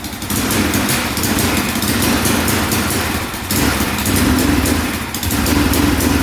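Quad ATV engine held at full throttle yet failing to rev out, a steady loud buzzing drone with a slight dip midway and no climb in pitch, running continuously close by.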